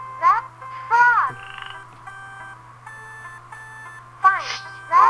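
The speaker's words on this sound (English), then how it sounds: "You found the frog." Cartoonish croaking calls from a frog in a Mario preschool video game, sounding in short bursts at the start and end alongside steady electronic beeps and a low hum, with a voice talking in between.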